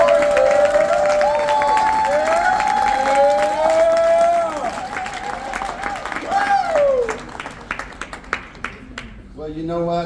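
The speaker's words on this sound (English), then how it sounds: "So give yourself an applause because we appreciate you" A crowd applauds and cheers for a company CEO at a business event, with sustained dense clapping behind loud, rising and falling vocal tones, easing toward the end.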